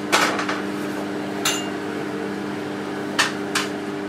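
Potatoes heating in a water-filled dish inside a running microwave oven, a steady hum broken by a few sharp, isolated pops and bursts from within, with no voices.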